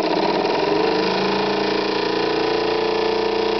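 A Jenson model steam engine, number 75, runs flat out at high speed with a steady dense whirring drone and a constant fast mechanical beat, close and loud throughout.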